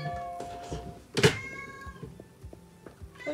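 A house cat meows once, a short loud cry close by, amid quiet indoor handling noises in a craft workspace.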